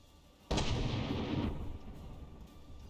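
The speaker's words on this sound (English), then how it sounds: "It fires a shell out." A tank cannon fires a shell in the game From The Depths: one sudden loud boom that rolls into a rumbling decay lasting a couple of seconds, alone with no voices.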